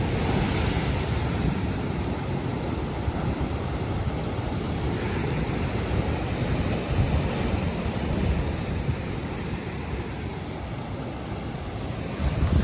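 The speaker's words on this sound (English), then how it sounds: "Cool splashes." Waves crash and splash against the rocky shore at Acadia National Park, a dense, loud, unbroken roar of surf mixed with heavy wind noise on the microphone, with no voices.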